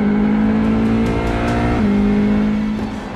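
An LMP2 prototype race car from United Autosports, racing at a season-ending event in Malaysia, roars loudly with a sustained high engine drone that shifts pitch as it passes, alone without talk.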